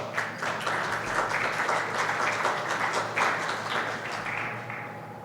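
An audience at an evening session claps in steady, sustained applause to welcome Dr. Santiago Brizuela Pavón, a dense wash of many hands with no speech over it.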